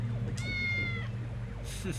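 A cat meows once in the Tales of the Neon Sea video game, a clear rising-and-falling mew over a steady low hum, with a voice talking over the background.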